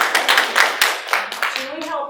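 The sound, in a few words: audience round of applause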